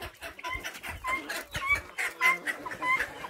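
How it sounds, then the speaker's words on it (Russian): Several hens and roosters cluck and squawk continuously nearby, a busy overlapping chatter of short calls with no voices. "петухов очень много"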